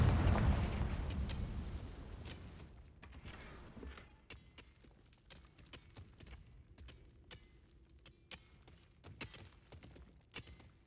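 A Confringo blasting spell in Hogwarts Legacy goes off with a deep, loud explosion that fades out over a few seconds, followed by scattered small crackles and debris pops.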